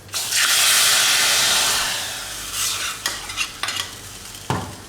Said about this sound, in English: This is what we call tadka. This is what is tempering.